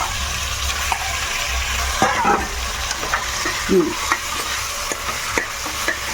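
Chicken with masala sizzles in a pan while a spoon stirs and scrapes it, a constant frying hiss broken by repeated clinks and scrapes, without speech.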